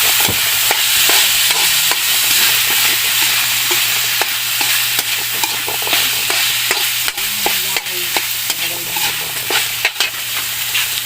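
Onions sizzle steadily in a hot frying pan while a utensil stirs them, with scattered scrapes and clicks over a constant loud frying hiss and no talking.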